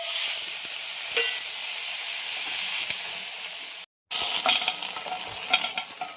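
Cluster beans tossed into a pan of roasted chili and garlic: continuous loud sizzling with close stirring scrapes and clicks, broken by a brief silent gap before the frying resumes.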